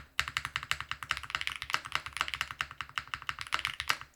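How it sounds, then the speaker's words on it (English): Typing on a DK1-TKL custom mechanical keyboard, a rapid run of crisp, clacky keystrokes close to the ear in a steady, uneven rhythm with no talking. "But the moment we start typing on it,"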